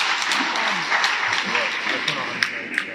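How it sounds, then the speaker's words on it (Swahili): A crowd applauds the director at the opening of a training session for 10 percent loan beneficiaries, a steady wash of clapping with a few louder claps and a voice talking over it. "Makofi mengi kabisa kwa mkurugenzi wetu"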